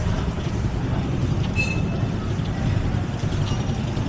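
A steady low rumble of an LRT light rail train rolling along, with a brief faint metallic squeal partway through.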